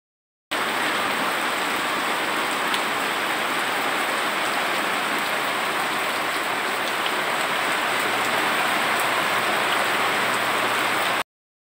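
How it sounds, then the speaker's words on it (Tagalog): Heavy rain falls steadily during the rainy season, a loud, even wash of drops striking surfaces nearby that continues unbroken for about eleven seconds with no speech. "malakas na ang ulan. Malakas na yung ulan dito sa amin."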